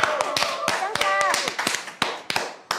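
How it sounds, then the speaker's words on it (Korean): Several sharp hand claps ring out in a TV studio set for a K-pop cooking show, loud and close and spaced irregularly, while a few voices cheer and talk over them. "박수 한번 주세요!"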